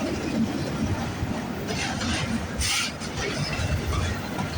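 A CP freight train hauling auto rack cars rolls past near Wolverton with a steady, loud rumble and rattle of wheels on rails, plus a brief higher squeal partway through.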